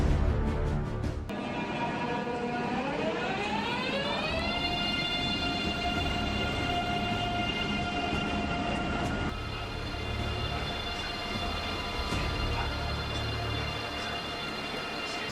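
A Renfe AVE Velaro E high-speed train on the Madrid to Barcelona line passes with a rising whine of climbing tones that level into a sustained hum, over a steady rumble of moderate loudness.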